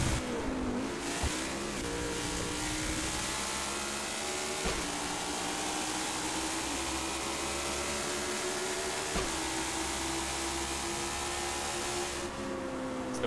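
Race car engine in a racing video game holding full throttle, a steady loud whine with rising and shifting harmonics across the whole stretch, briefly dipping at a few gear changes, no voices.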